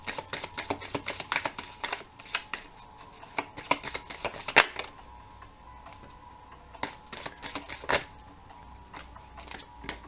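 Tarot cards being shuffled in quick riffling bursts, crisp and close, with brief pauses between runs.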